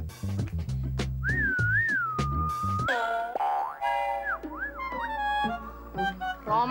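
A man whistles at a woman, gliding up and down in a playful tune with swooping pitch bends, close and clear, set among comic boing effects and brief musical stings.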